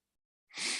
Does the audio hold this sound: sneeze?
yes